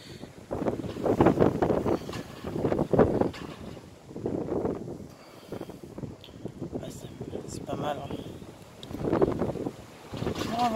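Strong storm wind of 75-80 km/h roars in surging gusts in Le Mans, France, buffeting the microphone with rumbling blasts that rise and fall.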